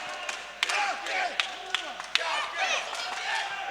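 A large fight-night crowd cheers and claps for fighter Pálsson, with sharp impacts and bursts of shouting over a steady roar of noise in a cage-fighting arena.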